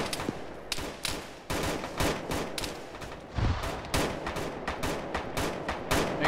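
Rapid bursts of rifle and machine-gun fire in a ShackTac Arma firefight, with repeated sharp shots and short volleys cracking throughout, close and loud, with no talk over them.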